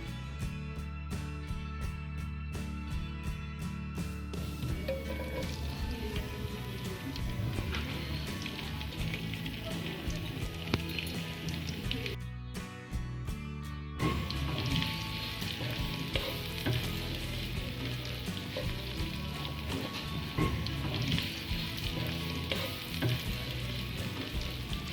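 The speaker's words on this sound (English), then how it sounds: "When the oil becomes hot, add onion into it. You have to keep on little sauteing the onion." Chopped onion sautés in hot oil in a kadai, a continuous dense sizzle with scraping stirring sounds, briefly quieter and cleaner for moments before the loud frying resumes.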